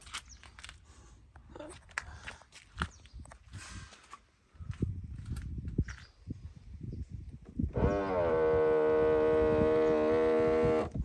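After some rustling and knocks, the power folding mirror motor of a 2015 Mazda CX-5 whirs into a steady, droning whine with buzzing overtones that continues for several seconds.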